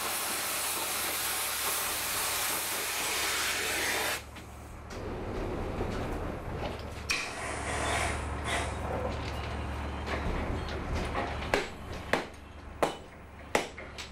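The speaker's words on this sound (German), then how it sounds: "Wenn nichts mehr geht, muss der Schweißbrenner ran." A welding torch works on railway track at night during rail renewal by a track-rebuilding train: a loud steady roaring hiss for several seconds, then gaps of quieter rumble and sharp metallic clanks and knocks.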